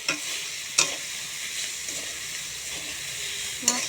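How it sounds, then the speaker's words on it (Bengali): Talkuchi greens stir-fried with a little chili powder in a pan give a steady close hiss of sizzling, punctuated by a few sharp scraping stirs of the spatula. "একটুখানি লঙ্কা গুঁড়ি দিয়ে দিতে হবে, সামান্য পরিমাণ মতো হালকা একটু লঙ্কা গুঁড়ি দিয়ে নাড়তে হবে"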